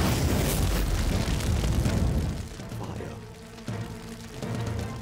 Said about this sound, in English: Look out, everyone! Fire!